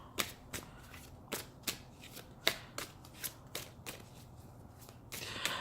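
Cards riffle and snap in a string of crisp, separate flicks, close and fairly quiet, with no talking.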